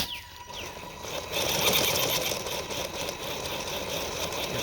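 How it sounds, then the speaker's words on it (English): A budget 6x6 RC car drives jerkily over wet ground, its small electric motor giving a steady buzzing whine with uneven, stuttering surges, close by and alone without any talk. "So here's the jitteriness I was talking about."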